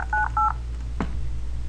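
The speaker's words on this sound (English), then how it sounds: "So if we dial a number," Two short dialing tones from a Windows Phone 7 keypad beep in quick succession, clean and close, followed by a soft brief tap or click over low background hum.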